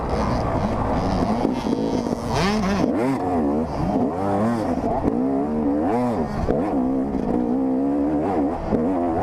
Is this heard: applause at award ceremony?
no